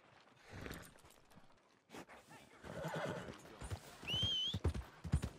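Hooves clip-clopping at close range while a horse snorts and lets out a whinny, with rustling movement throughout, in the video game Red Dead Redemption 2.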